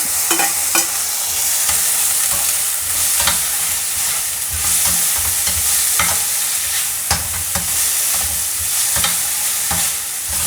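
Chopped tomato sautéing in hot oil with golden-brown onions for a restaurant-style paneer tikka masala, a steady close sizzle with repeated sharp scrapes and clicks of stirring throughout, no voices.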